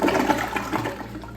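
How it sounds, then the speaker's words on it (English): A hotel bathroom toilet flushes with a loud rushing surge of water that quickly tapers into a softer gurgle, close by with no talking. "So now I'll go ahead and flush it."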